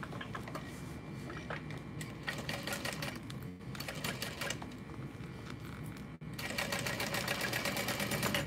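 A sewing machine bastes along the bottom of a pleated backpack side pocket with a continuous rapid stitching clatter. It pauses briefly twice, then picks up again slightly louder.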